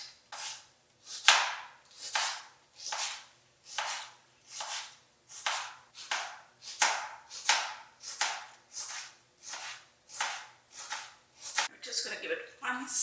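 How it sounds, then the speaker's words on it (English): A serrated knife slices through a fresh tomato on a cutting board, giving a steady series of about a dozen close, crisp sawing strokes in an even rhythm, with no talking over them. "I'm using a serrated knife here so that you get a clean cut."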